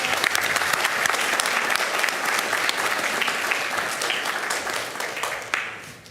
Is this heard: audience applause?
yes